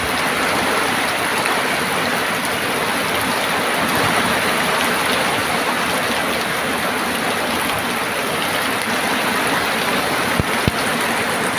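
Heavy rain pours down in a dense, steady hiss that never lets up, with a couple of faint knocks near the end.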